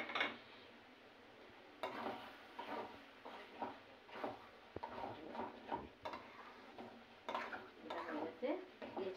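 Fish curry being stirred in a pan with ground cumin and garam masala, giving a quiet run of soft scraping and clinking spoon strokes in an irregular rhythm throughout, with faint kitchen background.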